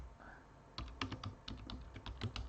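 Quiet keystrokes on a computer keyboard come in a short irregular burst of about a dozen soft clicks and taps, faint and close.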